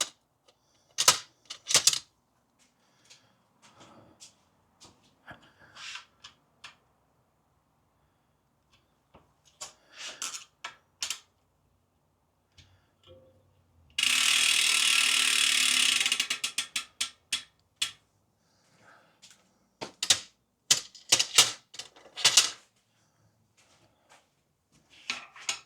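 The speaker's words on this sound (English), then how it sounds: "Just gonna check the chain tensioner bolts" A wrench ratchets on a bicycle's chain tensioner bolts in short bursts of clicking pawl, with one longer continuous rattle of rapid clicks in the middle and scattered sharp taps and clacks around it, close up.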